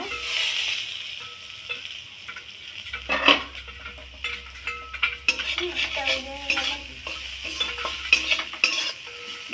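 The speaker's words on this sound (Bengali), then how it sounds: "ভালো করে নেড়ে নেব" Half-boiled potatoes are stirred in a pan with a spoon, giving repeated scraping and clinking strokes of metal on metal over a faint low hum, with no voices.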